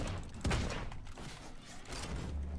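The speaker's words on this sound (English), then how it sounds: "Hey, Jacob, you're being shot at." Gunfire in the battle-royale game Realm Royale: a steady, fairly loud wash of rapid shots and impacts runs through the whole stretch, with a heavier thump near the start and no talking.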